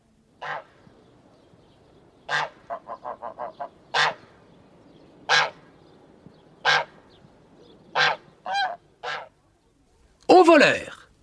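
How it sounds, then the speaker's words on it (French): Cartoon geese honk in single, evenly spaced calls, with a quick run of short honks near the start and a louder squawking burst at the end, close and alone with no talk. "Et des oies."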